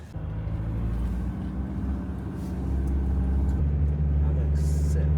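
A van's engine turns over and settles into a steady low idle after a jump from a portable battery charger, with people talking over the rumble.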